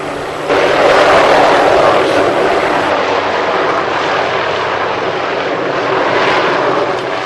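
Helicopter used in a wild horse roundup, a loud steady rotor and engine roar close by that swells and fades slightly as it passes.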